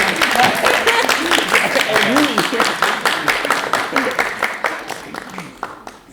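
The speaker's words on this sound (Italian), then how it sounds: "E un applauso." An audience applauds after a documentary screening debate, a dense burst of clapping that thins into fewer, separate claps as it fades toward the end.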